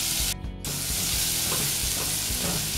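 Chopped, peeled calabresa sausage cubes frying in a pan, a loud continuous sizzle and crackle with a brief dip near the start, close by and steady, no voices.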